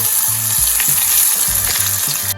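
Green chillies fry in hot oil with asafoetida and turmeric, sizzling loudly and continuously up close while a utensil scrapes and stirs in a rough rhythm.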